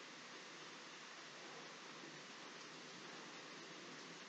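A hailstorm beating down outside, a constant, even hiss of countless small impacts heard from a distance, steady and unbroken with no gaps.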